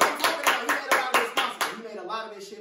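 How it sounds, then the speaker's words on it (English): A few people on a podcast give a round of applause for their sponsor, with rapid close hand claps in a quick steady run that fade out toward the end as a voice comes in. "Let's give him a round of applause"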